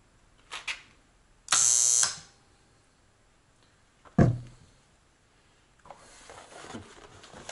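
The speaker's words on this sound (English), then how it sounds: "First real spot weld that we did." A homemade spot welder fires on a lithium battery cell tab, giving a few sharp, loud electrical bursts: a short buzz, a longer sustained blast, then a brief crack, with quiet gaps between and no talk.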